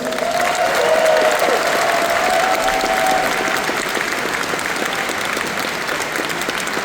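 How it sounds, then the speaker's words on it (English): A large crowd at the Anthrocon 2025 closing ceremony gives senior staff a loud, sustained round of applause, dense steady clapping filling the whole stretch with a faint voice early on. "Let's give them a huge round of applause."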